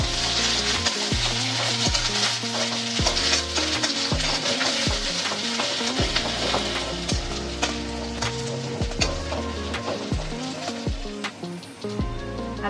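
Onions and spices frying in oil in a pan for a Bengali catfish curry with eggplant, a loud, constant close sizzle broken by regular knocking and scraping strokes of a stirring spoon, with no talking.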